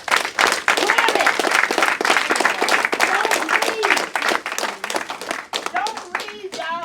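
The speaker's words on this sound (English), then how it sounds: "clap your hands." A crowd of prison inmates at San Quentin claps hands in a fast, rhythmic beat, loud and close, while voices call out and sing over the clapping.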